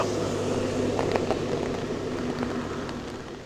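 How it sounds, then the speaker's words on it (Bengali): Heavy rain falls steadily on an open area, a soft continuous hiss with scattered drop patters, heard fairly faint and alone. "ভীষণ জোর মতো বৃষ্টি নেমেছে"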